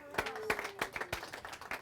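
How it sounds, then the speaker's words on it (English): A workshop audience gives a round of applause, with scattered, uneven hand claps close by, lasting under two seconds, with some voices mixed in. "give yourself a round of applause"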